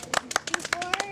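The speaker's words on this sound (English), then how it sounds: "one last applause for Alexa Appelbaum" A small group claps briefly for a presenter after a movie trailer showing, with sparse, irregular handclaps close by and a voice talking over them.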